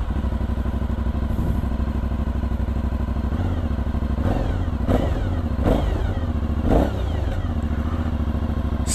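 An Aprilia Shiver 900 motorcycle engine starts and settles into a steady idle, with a few sharp revs blipping up near the end, close and loud, no talking.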